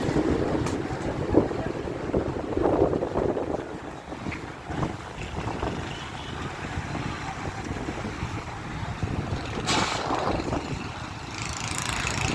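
Strong gusts of wind tear across a Karachi street during a sudden weather change, whipping up dust, with a steady roar and buffeting against the microphone throughout.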